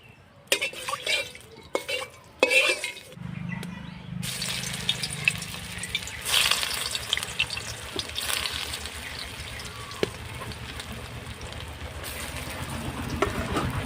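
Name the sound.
taro leaf pakoras frying in oil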